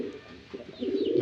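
Domestic racing pigeons kept in a home loft give soft, low cooing, a brief murmuring call close by that swells toward the end, with no talk over it.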